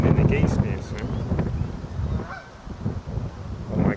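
Geese honk repeatedly in short bursts outdoors while seed is scattered for them, mixed with wind buffeting the microphone and a person speaking nearby.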